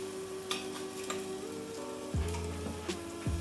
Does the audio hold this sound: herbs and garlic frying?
yes